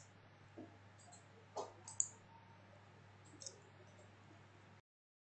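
Computer mouse clicks while working in modelling software, a few faint, isolated clicks spaced apart over quiet room hiss.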